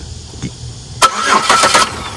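Starter on a 2004 Chevy Impala with a no-start fault kicks in after a quiet moment, a short burst of rapid cranking chatter that fades without the engine catching.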